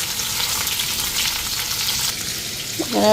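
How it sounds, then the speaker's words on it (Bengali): Potato and cauliflower frying in a pan, a loud, close crackling sizzle throughout, with a clink of a utensil near the end and no voices. "এদিকে আলু ফুলকপিটা কষায় দিলাম"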